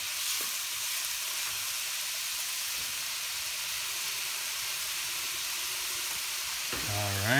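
Garlic, onions and ginger fry in a pan with a steady, close sizzle and hiss that runs unbroken throughout, with a brief utensil clatter near the end.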